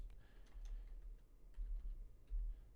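Quiet, quick clicks of keys on a computer keyboard, a short run of light taps against a low background hum.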